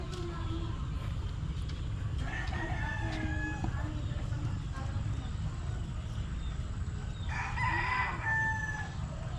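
A Gilmore broodstag gamefowl rooster crows twice nearby, long drawn-out calls standing over a constant low background rumble.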